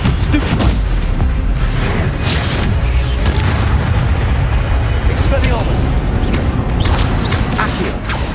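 Incendio fire spells cast in Hogwarts Legacy, loud continuous roaring bursts and booming whooshes of game combat layered with mechanical clatter, with a voice shouting over it.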